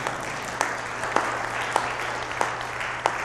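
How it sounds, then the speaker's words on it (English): Scattered clapping rises softly at a church service, faint against a low steady hum, with a few sharper hand claps standing out at regular intervals. "That one gets an applause"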